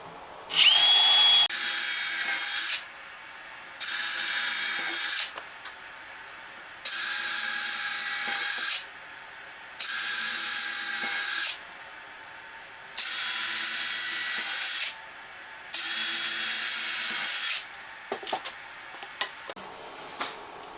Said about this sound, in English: And I started pre-drilling